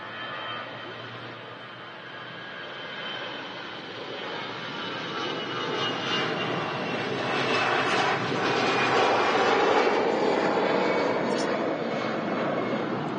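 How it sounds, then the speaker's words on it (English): An EasyJet jet airliner with CFM engines roars steadily at an airport, and its rasping buzzsaw drone builds slowly in loudness over about thirteen seconds. "EasyJet next to the part, got them CF engines going transonic, making that buzzsaw sound."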